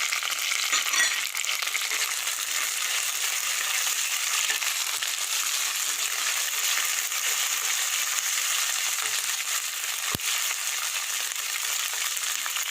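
Curry leaves and green chillies fry in a little oil for a mushroom curry, a constant bright hissing sizzle that holds evenly for the whole stretch, with one faint clink near the end.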